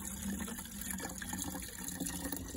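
Water pours into a garden pressure sprayer that already holds a litre, a continuous quiet splashing fill with a hollow plastic tone, steady throughout and with no one talking.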